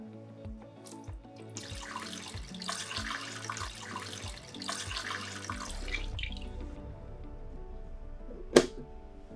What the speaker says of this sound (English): Add fresh water to the water tank.